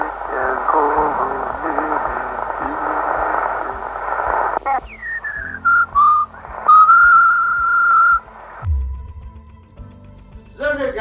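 Over a crackly radio link during the countdown to his spaceflight, a cosmonaut whistles a song in wavering, sustained tones. The whistling comes through a hiss of static, and sharp electronic beeps cut in near the end.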